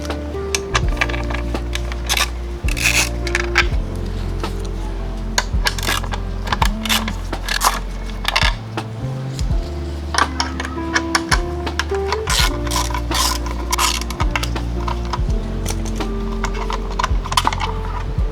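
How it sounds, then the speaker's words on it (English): Ratchet and 8mm socket removing coolant cover bolts on a Triumph Trident 660 motorcycle, with rapid clicking and light metallic taps over a constant low hum, continuing steadily throughout. "an 8mm socket. And you're going to be removing these 3 bolts."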